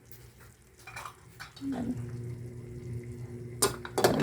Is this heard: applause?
no